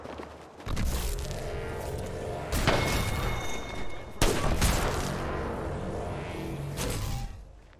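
Sustained automatic gunfire in the battle-royale shooter Apex Legends, a dense loud fusillade rattling almost without pause, with two sharp bursts punching through and faint voices under the shooting.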